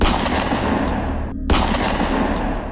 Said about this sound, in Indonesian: tiba-tiba sebuah tembakan terdengar